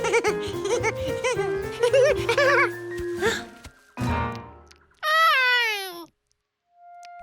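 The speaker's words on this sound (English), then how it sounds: "nothing slams the brakes on fun like some strange cat eating your sandwich" A cartoon cat meows loudly while eating a peanut butter and jelly sandwich, in a rising, wavering cry heard after bouncy cartoon music and sound effects.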